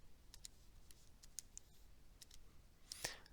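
Calculator keys pressed while working through a quadratic formula problem: faint, sparse clicks at irregular intervals, ending with one sharper, louder tap near the end.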